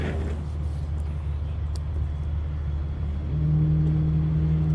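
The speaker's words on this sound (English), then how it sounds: "Has to back up the truck a little bit." A scrap-hauling truck idling with a low, steady engine rumble while backing up slowly, the engine note rising and growing louder toward the end.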